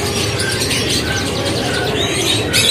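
Many birds at the crowded Pramuka bird market, including Australian parakeets and doves, fill the air with a continuous mix of chirps, tweets and coos, dense and steady throughout with a slightly louder flurry near the end.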